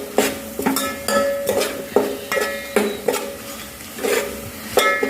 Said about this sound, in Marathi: सर्व जिन्नस परतून घ्यायचे